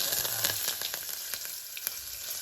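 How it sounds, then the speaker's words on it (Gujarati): Chopped onions hit a hot pan of ghee and cumin for Maggi noodles, giving a steady loud sizzle broken by several sharp crackles and spatters, with no voices. "ડુંગળી નાખે છે હવે"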